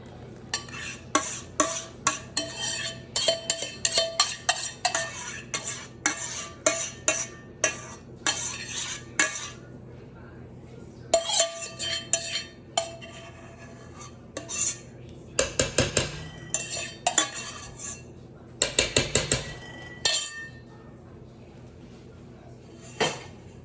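A spoon stirring strawberry freezer jam in a pot until the sugar melts, making repeated clinking scrapes in uneven bursts with short pauses between.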